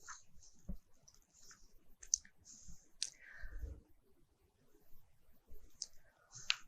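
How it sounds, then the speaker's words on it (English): A computer mouse clicks a few times in quiet surroundings during structural engineering software work, crisp isolated clicks. "Then I click on OK."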